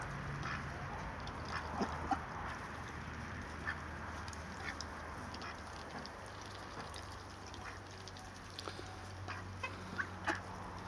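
Ducks quack and cluck softly while pecking at corn, with scattered small clicks and rustles over a steady low outdoor hum.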